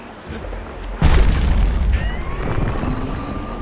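Video game Bastion: a sudden loud booming blast of enemy fire lands about a second in, followed by a rumbling tail with fainter whooshing shots trailing off, no voices.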